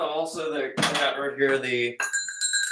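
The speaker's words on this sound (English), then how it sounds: "goat bell, which is also can be used as a percussion instrument" A goat bell is struck as a percussion instrument, giving a couple of bright metallic clanks that ring out between stretches of someone talking.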